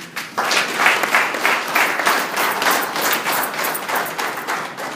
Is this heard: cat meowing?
no